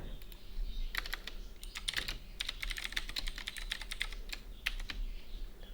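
Keys clatter on a computer keyboard while code is typed, coming in quick bursts of clicks with short pauses between, close and moderately loud over a faint background hum.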